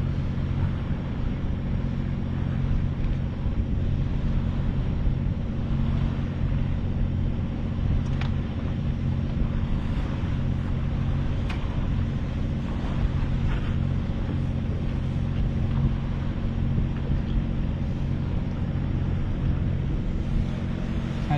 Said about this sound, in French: Le bateau à moteur là qui vient vers nous.